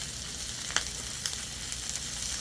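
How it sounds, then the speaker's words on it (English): Thick cut bacon frying on a Blackstone griddle, a steady close sizzle with small pops and crackles throughout and no talking. "So I'm going to go ahead and cook that up real quick"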